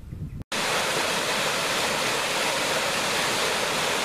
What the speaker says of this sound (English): Found another waterfall close to the village of Keld, the River Swale.